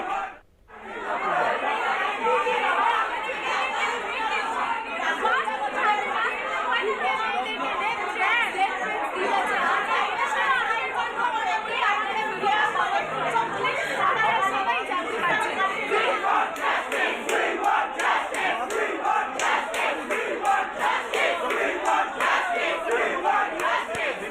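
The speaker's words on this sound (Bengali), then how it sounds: "উই ওয়ান্ট জাস্টিস স্লোগান তুলে পড়ুয়ারা বিক্ষোভ দেখাচ্ছেন" A large crowd of students chants a protest slogan at a law college, a loud sustained roar of massed voices repeating rhythmically, with shouting and chatter throughout.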